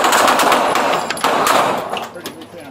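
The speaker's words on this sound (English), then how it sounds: "Shots fired, shots fired." Rapid gunfire bursts crack loudly and close in an alley confrontation between police and a man holding an airsoft gun, with shouting voices mixed through the shots.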